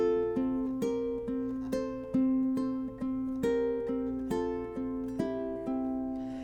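A ukulele picks the Ode to Joy melody slowly and evenly, single plucked notes ringing out one after another at a steady moderate pace, close and clear with no voices.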